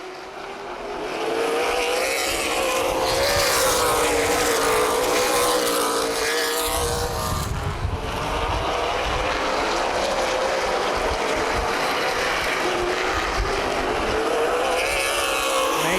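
CRA Super Series race cars roar down the back straightaway at Anderson Speedway in a 2011 race, a loud engine blare that swells, holds and shifts as cars pass.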